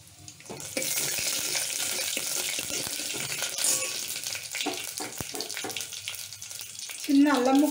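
Cumin and mustard seeds sizzle in hot oil, a steady bright hiss that starts after a brief quiet moment and carries on with scattered small crackles and pops.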